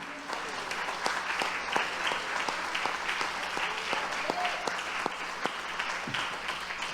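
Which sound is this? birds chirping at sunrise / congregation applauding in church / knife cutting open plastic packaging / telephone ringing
congregation applauding in church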